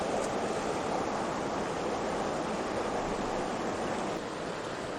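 Backcountry river flowing, a steady, loud rushing of water with no breaks, broad and constant throughout.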